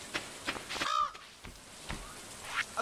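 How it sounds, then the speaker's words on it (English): A crow in the Stardew Valley farming game lets out a single harsh caw, fairly close, amid faint background game sounds. "A crow just ate our stuff!"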